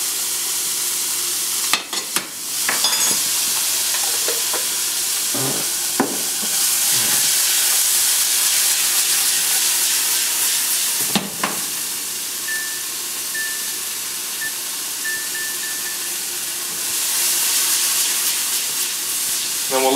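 Diced garlic and vegetables for stuffed peppers sweat in a pan with a steady, loud sizzle, broken now and then by stirring clatters.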